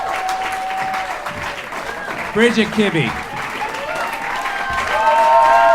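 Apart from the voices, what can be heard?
audience applause for musicians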